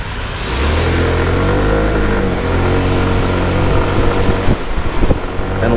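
A Sym Symphony ST200 scooter riding through winter Bucharest traffic, its small engine droning steadily under heavy wind buffeting on the microphone, with a few revs and bumps toward the end.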